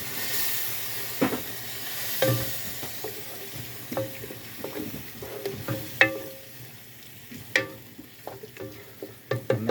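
Utensil clinks and scrapes against a pan of catfish courtbouillon with tomatoes at irregular intervals over a soft sizzling hiss, close by, with no voices.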